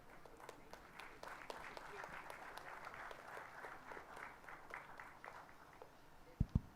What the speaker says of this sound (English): Round of applause was a bit slow.